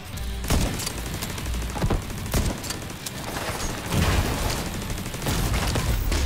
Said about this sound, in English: He shoots the mortar. I hear the mortar go off.